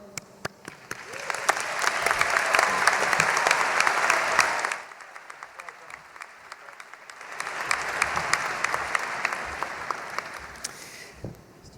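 A graduation audience for the class of 2014 applauds in two sustained waves of clapping, a quieter lull with scattered claps between them, heard from a distance in a hall.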